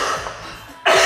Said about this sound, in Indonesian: sorry agak batuk karena sering kehujanan mungkin ya